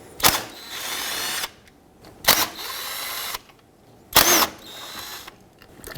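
A power tool spins out three 10mm valve cover bolts on a 2.4L 1997-2006 Jeep Wrangler, sounding as three separate close whirring bursts of about a second each, separated by quiet gaps.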